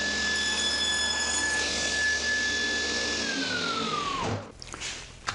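A table saw rips the edge off a wooden live-edge log box lid, a loud steady whining blade hum under load for several seconds that drops in pitch and winds down as the cut finishes.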